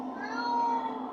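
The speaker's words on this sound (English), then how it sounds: "My cat Marty says hi. He wants some too" A house cat lets out one drawn-out, close meow lasting about a second, in a kitchen where pumpkin soup is being cooked.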